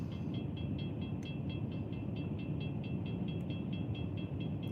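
A long freight train rolls past a road crossing in daytime, a steady loud rumble with regular rhythmic clacking of wheels over rail joints and a faint bell-like tone throughout.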